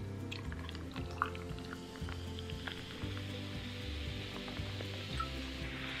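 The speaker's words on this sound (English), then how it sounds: "Do you hear that fizz?" Freshly poured toffee apple cider fizzes with a soft, continuous crackle of tiny popping bubbles, faint and close, over low background music.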